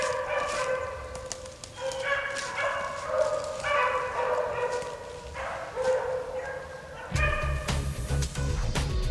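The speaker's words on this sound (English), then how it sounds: "As you can hear, the dogs are getting closer" Pack of beagles baying while chasing a swamp rabbit on a hunt, several overlapping howling voices in a continuous chorus at moderate distance, with an added low rumble near the end.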